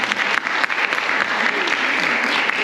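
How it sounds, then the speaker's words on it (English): An audience applauds a speaker with dense, steady clapping that fills the room, fairly loud and unbroken. "So give it applause to her."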